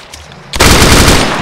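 Video game gunfire in DayZ: a sudden loud burst of rapid shots breaks out after a quiet moment, close and sharp, sustained to the end.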